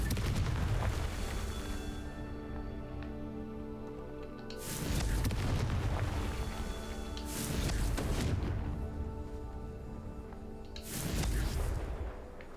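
Repeated Confringo fire-spell blasts in Hogwarts Legacy, three or four booming bursts spaced a few seconds apart over a droning music bed.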